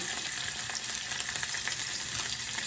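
Salmon frying skin-side down in a hot pan while a spatula presses it flat: a dense, close, continuous crackling sizzle with small pops and spatters, steady and loud with no talking.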